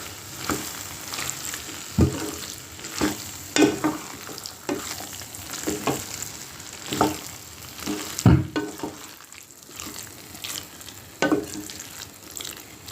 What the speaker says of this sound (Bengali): এখন এখানে আমি আধা কাপ ধনিয়া পাতাটা দিয়ে একটু নেড়ে আমি এটা এখন নামিয়ে ফেলবো।